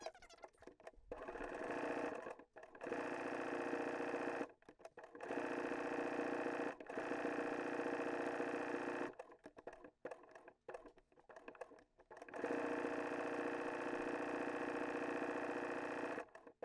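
Sewing machine stitching raw appliqué edges on a Halloween Frankenstein quilt block, running in long steady whirring bursts separated by short stops, close and loud, with no talk.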